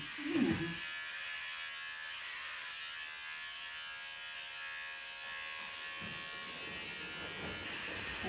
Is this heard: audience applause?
no